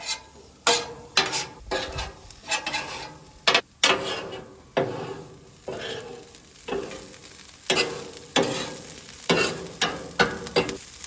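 Enchilada filling crisps on a griddle insert in a Weber gas grill, with steady sizzling broken by repeated rhythmic metal spatula scrapes and chops, close and fairly loud, and no talking.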